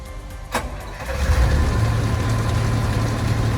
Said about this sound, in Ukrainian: Заводиться тихенько, рівненько працює двигун.